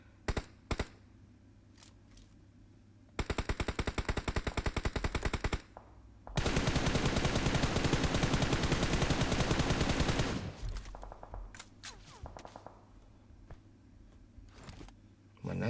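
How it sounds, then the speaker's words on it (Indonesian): Automatic gunfire in PUBG Mobile, fired at the player: a dense rapid burst of shots for about two seconds, then a longer sustained volley of four seconds, loud and close, with a few scattered single shots around them. "itu nembak gue pula."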